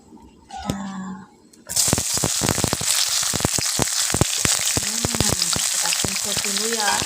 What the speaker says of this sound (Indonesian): Untuk pentolnya tak goreng dulu biar awet